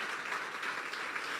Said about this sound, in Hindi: बेटे अमूस के लिए जोरदार तालियां।